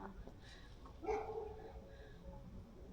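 A dog met on a hiking trail near Starigrad fortress in Croatia gives a short bark or yip midway through, fairly close, over outdoor background noise with little talk.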